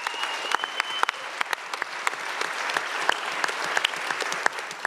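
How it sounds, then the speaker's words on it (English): A crowd at the start of the USA Pro Challenge cycling race in Durango, 2012, claps in a steady, moderately distant wash of applause with a few sharp individual claps standing out. "So big round of applause to Durango."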